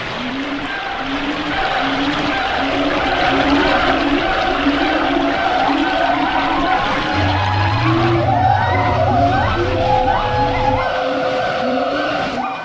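A computer-generated waterfall soundscape set in Thailand: steady rushing water fills the whole stretch, layered with a rhythmic low pulsing, brief tonal chirps and a low rumble toward the end, all fairly loud with no talk.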